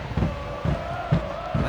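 Stadium crowd in Cincinnati at a soccer match, a steady low roar of many voices with rhythmic swells, like a repeated chant, rising every half second or so.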